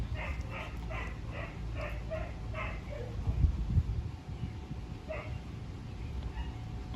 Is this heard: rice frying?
no